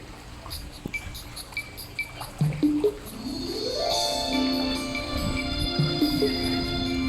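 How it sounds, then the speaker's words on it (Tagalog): Water flows hard, a pouring stream that rises into a steady, fairly loud rush partway through after a few clinks and knocks. Bird-like tonal chirps sit over it. "malakas nga yung tubig na yun eh"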